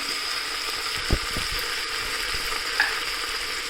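Tomato pieces fry in a pan for vegetable bread pulao, a steady close sizzle with a couple of soft stirring knocks, no voices.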